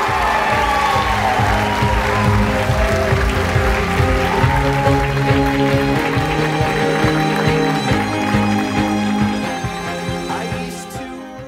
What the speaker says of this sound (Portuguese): Uma grande salva de palmas, senhoras e senhores